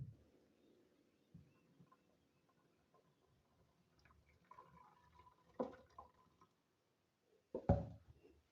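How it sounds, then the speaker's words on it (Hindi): Cooked pearls for a mango dessert are strained through a sieve, giving faint trickles and drips of water with a few louder splashy pours near the end, alone in a quiet kitchen. "और इनका इस तरह सारा पानी जो है वो हम निकाल लेंगे।"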